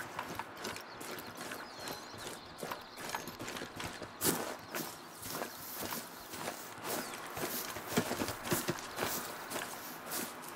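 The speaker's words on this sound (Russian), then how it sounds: "Снова я слышу топот, внимание." Bison hoofbeats in the hunting game theHunter: Call of the Wild, Yukon Valley, Alaska: a steady, irregular patter of hoof thuds at moderate distance, continuing throughout with scattered sharper knocks.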